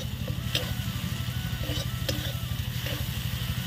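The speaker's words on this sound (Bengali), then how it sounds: "এবার মশলাটাকে কষিয়ে নেব।" Spice paste with turmeric and green chilli frying in a pan for a Bengali fish curry with yam: a steady, close sizzle with a few faint clinks of stirring.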